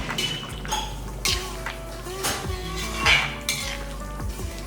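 Masala paste thinned with a little water is poured from a mixer jar into chicken frying in a pan, with metal clinks of utensils, stirring scrapes and a low sizzle running throughout.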